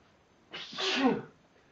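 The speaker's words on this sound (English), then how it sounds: "I'm still sneezing" A single close sneeze, a short sharp burst lasting under a second, heard on its own during a piano lesson.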